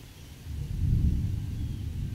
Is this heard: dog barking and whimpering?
no